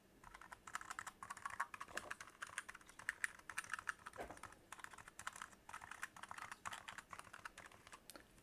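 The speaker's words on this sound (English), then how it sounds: "Listen to these switches." A Razer Huntsman Mini keyboard is typed on steadily, its switches giving quiet, soft rapid clicks and muted thunks in an irregular stream, close but low in level, with no talking.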